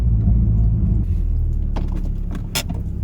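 A 1995 Toyota MR2 engine idles steadily in the rain, a close, loud low rumble throughout, with a few brief light rattles and clicks near the end.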